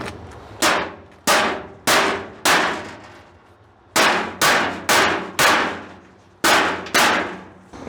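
Hammer blows knocking a part into a trailer suspension during a rebuild: about ten sharp metallic clangs, close and loud, in irregular groups with short pauses between strikes.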